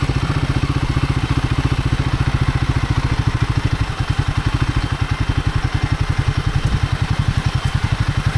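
A Royal Enfield Himalayan 450 motorcycle rides close on sandy singletrack, its single-cylinder engine pulsing in a loud, rapid, steady thump with faint clatter and no voices.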